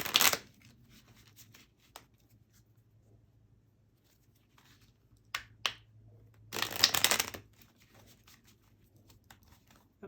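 Tarot cards being shuffled at close range, two short bursts of riffling and a brief full shuffle later on, with quiet gaps and a low steady hum between them.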